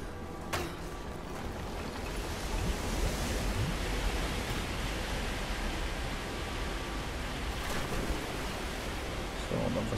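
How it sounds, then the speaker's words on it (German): Steady rushing water swelling in an ancient flooded cistern in Rise of the Tomb Raider, a continuous broadband wash that holds level for about ten seconds with no voices over it. "dann lassen wir das Wasser nochmal steigen"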